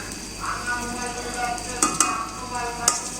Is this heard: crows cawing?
no